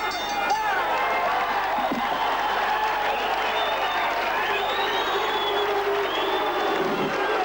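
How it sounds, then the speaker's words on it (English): A boxing crowd roars through the closing seconds of the tenth and final round, a dense, continuous wall of cheering and shouting from a large arena audience. "Renaldo Snipes hearing it from the crowd"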